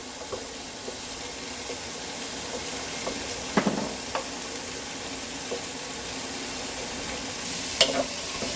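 Onions sizzling and frying in a pan over medium-high heat while making bolognese sauce, with a steady soft crackle throughout and a few brief clinks and stirring scrapes, no voices.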